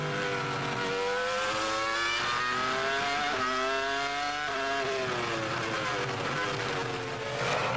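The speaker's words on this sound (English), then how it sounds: "Great to hear that Ferrari engine working hard." Ferrari Formula One V10 engine at the 2002 Hungarian Grand Prix, heard onboard as a loud, continuous high-pitched scream that rises and drops through gear changes, with no talking.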